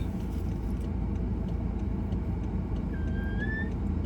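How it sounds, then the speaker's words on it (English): A high, thin brake squeal rises briefly over the steady loud rumble of a car driving. "The brakes are doing that noise."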